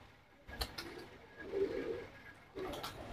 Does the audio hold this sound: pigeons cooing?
yes